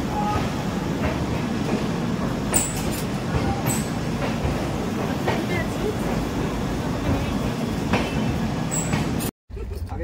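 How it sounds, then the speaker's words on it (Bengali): A train pulling out, with a steady rumbling roll and faint clattering of wheels and carriages, close and continuous, with a short dropout near the end and people talking over it. "আমাদের ট্রেন বেরিয়ে যাচ্ছে"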